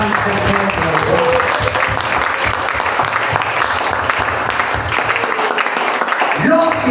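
A church congregation applauds and cheers for the Lord during a sermon on prayer, a loud, sustained wash of clapping and voices throughout, with a voice breaking through near the end.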